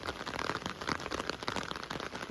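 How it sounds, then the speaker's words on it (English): Steady rain falling outdoors on a cold day, a dense continuous patter of drops hitting surfaces nearby with no voices. "We are finally getting some much needed rain."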